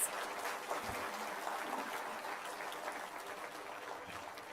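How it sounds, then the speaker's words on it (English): Sustained applause from a conference audience honoring distinguished guests at the inaugural ceremony of the 10th All India Conference, a steady wash of many hands clapping, fairly distant and even throughout. "please join me in the warm round of applause for all our distinguished guests."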